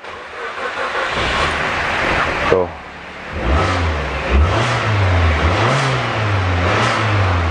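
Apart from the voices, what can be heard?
used car engine running and revving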